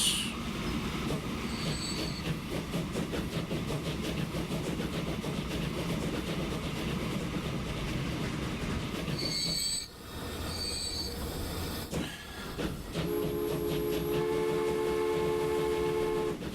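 Train wheels squeal and cars rumble steadily along the rails in the Transport Fever video game, a loud continuous roll with screeching metal and a brief dip near the middle before the clatter resumes.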